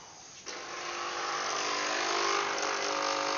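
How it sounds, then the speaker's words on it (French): A small Nespresso capsule coffee machine brews, its pump starting abruptly and settling into a steady, close, droning buzz with a constant electric hum. "mon café qui coule, avec ma petite machine Nespresso"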